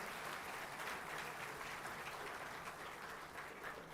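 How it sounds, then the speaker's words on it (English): An audience at a university convocation ceremony claps continuously, a thick, uniform roar of applause from a large crowd that holds steady throughout the short stretch. "Let us give a big round of applause to all of them"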